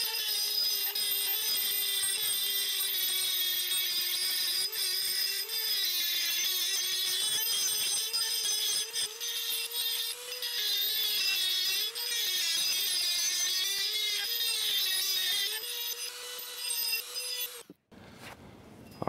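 A Dremel rotary tool with an aluminum oxide grinding stone sharpening a steel splitting wedge, a continuous high whine with gritty grinding that wavers slightly in pitch, then cuts off abruptly near the end.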